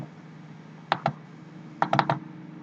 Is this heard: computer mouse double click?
yes